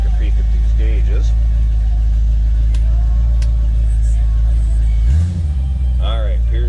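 A 1947 Ford Deluxe Coupe street rod's engine runs with a deep, steady idle rumble after a cold start, a music radio playing over it, and a brief thump near the end.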